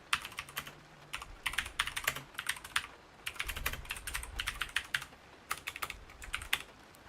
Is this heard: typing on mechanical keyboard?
yes